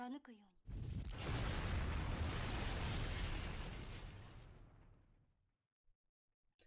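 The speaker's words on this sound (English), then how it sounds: "A loud explosion roared from the engine room as the attack found its mark." A huge explosion in a ship's engine room within the video game FUGA: Melodies of Steel 2, a loud rumbling blast that swells quickly, holds for several seconds, then fades away.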